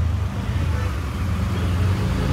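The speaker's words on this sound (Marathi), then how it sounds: "ट्रॅफिक तर भरपूर आहे" Heavy road traffic near Khopoli in the rain, a loud continuous low rumble of passing cars and larger vehicles close by, without speech.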